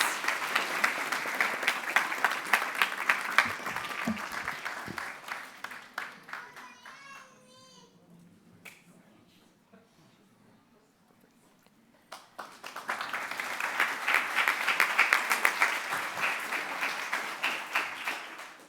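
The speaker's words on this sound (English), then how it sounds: "Let's give them a big round of applause." A school board meeting audience claps for students in a big round of applause, dense and loud at first, fading to near quiet with a few stray sounds and small voices, then swelling again into a second full burst of clapping.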